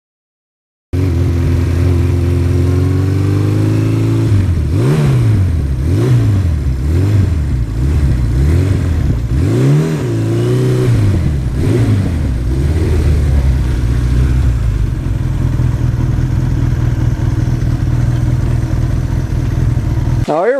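A restored older Honda Gold Wing motorcycle engine runs nearby, blipped in a series of rising and falling revs over a steady idle before settling back to a smooth, even rumble.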